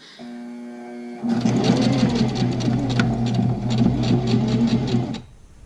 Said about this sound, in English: now I'm going to go ahead and back stitch again